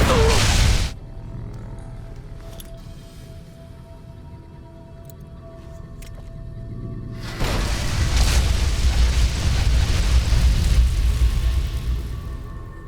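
A grenade explodes in Fallout: New Vegas with a loud sudden boom that cuts off after a second, followed by a quiet ringing lull and then a second long, heavy rumbling roar of blast noise.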